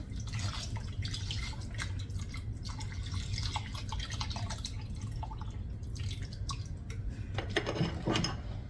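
Water added to a cooking pot in a home kitchen, heard as steady splashing and dripping with light clinks of cookware, fairly close and continuous throughout.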